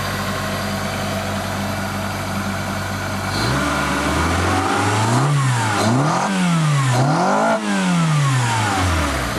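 Engine of an older vehicle hooked to a fuel pressure gauge, idling steadily and then revved several times in quick rises and falls, loud and close with no talk.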